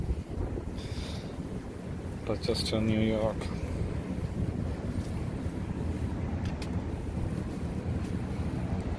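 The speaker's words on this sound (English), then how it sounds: "it's a windy today here" Wind buffets a microphone outdoors on a foggy day, a constant rough low rumble and hiss lasting the whole stretch, with a person talking briefly over it.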